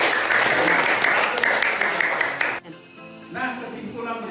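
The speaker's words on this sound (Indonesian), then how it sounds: "Kita kasih tepuk tangan." A classroom of students claps together for a classmate, a dense burst of applause lasting about two and a half seconds, then cutting off into quieter room sound with a voice starting up.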